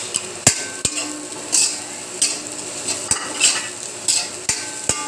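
Garlic and onion frying in a pan, a close sizzle with sharp, irregular clinks and scrapes from a utensil stirring against the metal, with no talk.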